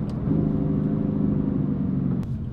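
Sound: BMW M4 Convertible exhaust with valves closed

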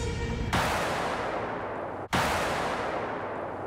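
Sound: explosion of armored personnel carrier in military drill

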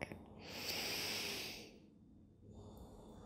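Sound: yoga breathing, inhaling

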